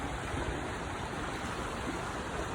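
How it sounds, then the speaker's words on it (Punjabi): Water from the Bhakra canal runs beneath the Ghaggar river in a steady, loud, broadband rush that never lets up, heard close and alone with no talking. "ਦੇਖੋ ਇਹ ਪਾਣੀ ਆ ਰਿਹਾ ਹੈ"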